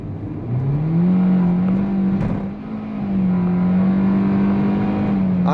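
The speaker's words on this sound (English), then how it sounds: "I don't think the car expected to be floored right there." A rented car's engine or motor is floored from a stop, giving a loud rising whine that climbs, dips briefly, then holds steady as the car pulls away.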